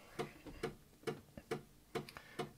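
Faint, irregular mechanical ticking and clicking of an E-mu Emax sampler's floppy disk drive loading a sound bank, soft rhythmic taps repeating in a quiet room.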